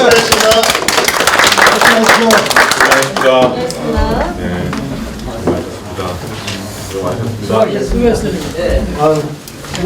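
Clapping for three candidates at a 22nd National Assembly candidates' policy debate in Ansan, bursting out densely over the first few seconds before giving way to talk and tonal sounds.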